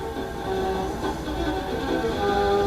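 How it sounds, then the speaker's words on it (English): A big, fast yellow train rolls into a station with a steady, loud rumble and sustained tonal ringing that holds throughout, with no voices. "Meppy, Netzi, and Dochi were at Fontropolis Station when the big train came in"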